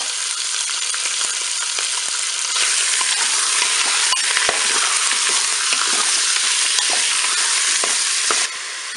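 Rabbit saddles searing in hot oil inside a Cookeo multicooker pot give a loud, steady, dense sizzle and crackle that carries on without a break, close up and with no voices.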